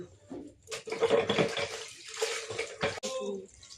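Water gushes strongly from a recently repaired kitchen tap, a close, loud splashing rush that surges and dips over a few seconds with brief interruptions.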